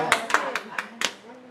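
A few sharp, separate hand claps ring out in a church congregation during a Korean sermon, irregularly spaced over about a second and fading after, with voices murmuring underneath.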